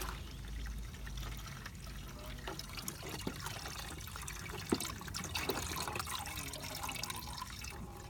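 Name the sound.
coolant draining out of a BMW S1000RR motorcycle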